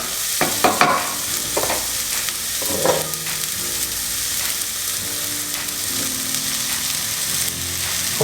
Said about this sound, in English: What we're going to do now is add the peppers in there and soften up the peppers a little bit.